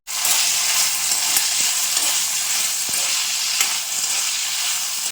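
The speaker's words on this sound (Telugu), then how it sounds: "చిల్లీస్ యాడ్ చేసుకొని ఇవన్నీ బాగా మగ్గించుకోవాలి." Green chillies fry in hot oil in a pan with a loud, steady sizzle that runs throughout, marked by occasional small crackles and pops.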